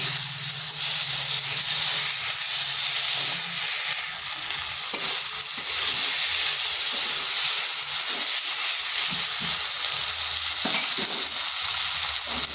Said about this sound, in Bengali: এবার ভালোভাবে মশলার সাথে কষে নিচ্ছি